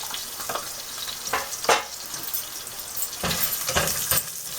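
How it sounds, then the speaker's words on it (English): Garlic and cumin seeds sizzle steadily in a hot pan for a spring onion curry, with a few sharper clinks and scrapes of stirring cutting through the close, continuous frying hiss. "you saute the garlic a little bit"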